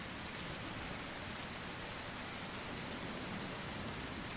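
Steady rain falls outdoors at night in a natural setting, a dense, even hiss that continues without a break and without voices.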